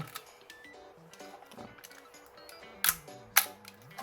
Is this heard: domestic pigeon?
no